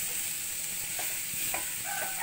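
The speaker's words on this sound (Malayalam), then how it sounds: "ഇതെല്ലാം കൂടി ഒന്ന് മിക്സാക്കുക." Broken wheat upma with vegetables is stirred in a hot pan, giving a steady sizzle with a few scraping strokes of the spoon, while a rooster crows faintly in the background.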